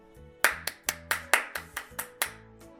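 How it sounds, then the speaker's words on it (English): Handclaps from a small audience, about nine sharp separate claps in a loose irregular rhythm, close and clear, with no talking over them. "that was just my audience clapping for me right now"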